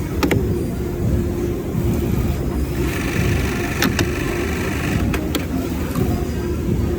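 A Jack T2210 industrial sewing machine runs steadily with a low continuous motor hum and faint mechanical buzz, joined by a few sharp clicks near the end.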